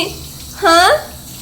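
A child at a home sink briefly turns on running water, a short close splash and gush lasting under half a second between quieter moments.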